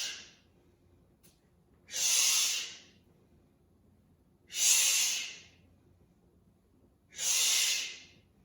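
Three long, slow yoga breaths in horse stance, each a soft hissing exhale lasting about a second, separated by quiet pauses, close and steady.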